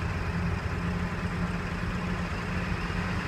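Ford 7.3 Powerstroke diesel with a hard-start, rough-running fault, the pedal held to the floor, gives a steady, low, rough drone that holds without rising.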